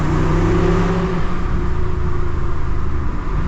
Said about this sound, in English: Give you some nice downshifts here as well.